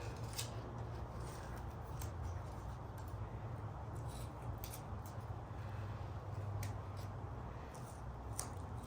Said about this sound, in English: My scissors are terrible.